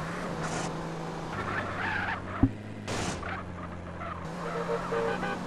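A fast car speeds along a straight highway in GTA San Andreas, engine droning with shifting pitch, a brief tire squeal and sharp knock midway, and other traffic passing by.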